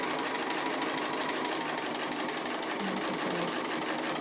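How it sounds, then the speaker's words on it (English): Sewing machine running steadily in a free-motion straight stitch, outlining close to the edge of an appliqué shape; a continuous, even, close mechanical whirr with fine rapid needle chatter and no pauses. "Outlining just on the applique shape, close to the edge, free motion straight stitch"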